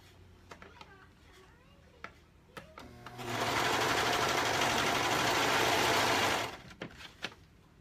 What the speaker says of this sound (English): And you sew down the length, and then you're going to sew one of the ends.